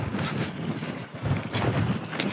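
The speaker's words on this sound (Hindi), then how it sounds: "हालांकि हवा चल रही है काफी तेज" Strong wind gusting outdoors on open ground, roaring steadily against the microphone with surges of buffeting throughout and no voices.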